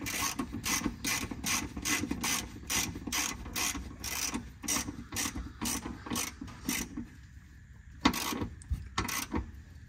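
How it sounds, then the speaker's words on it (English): A ratchet wrench tightens the drive shaft carrier bolts on a Pontiac G8, giving a rapid, regular series of close metallic clicks that slows and thins out toward the end. "you're gonna wanna just tighten up your drive shaft carrier"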